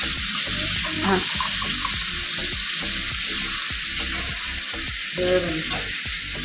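Coriander leaves are washed under a running tap, giving a steady, close rush of water with splashes and handling noises throughout.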